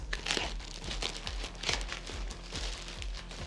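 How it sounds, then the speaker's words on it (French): A shoe package opened at close range, with dense crinkling and rustling of packaging under steady low background hum and no speech. "Opération déballage."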